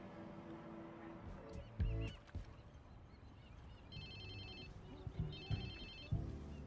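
A phone rings in Watch Dogs 2 with two short bright electronic ring bursts. They sit under game ambience and scattered thumps and clatter at moderate level.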